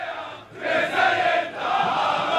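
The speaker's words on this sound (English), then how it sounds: "a crowd of Israeli fans chant anti-Arab slogans as they march toward the stadium" A crowd of Israeli football fans marching toward a stadium chant slogans in unison, a dense, rising and falling roar of many voices, steady and fairly close.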